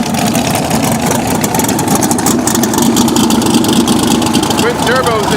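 Twin-turbo Houdini drag racing car idling at KD Dragway during a cash days event, a steady loud rumble with crowd and announcer-style talk over it throughout.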